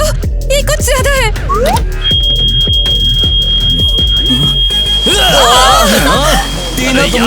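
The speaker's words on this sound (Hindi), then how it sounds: "टीना, तुमने फायर अलार्म को क्यों बजाया?" A school fire alarm sounds as a steady high electronic tone, continuing beneath loud, excited voices talking and exclaiming over it.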